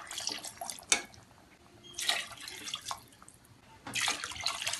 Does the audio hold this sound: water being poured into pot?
yes